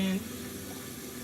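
Water runs into a blender jar to the max fill line for a vegetable and fruit smoothie, a steady tap-like flow that starts with a brief louder burst and then continues evenly and moderately close.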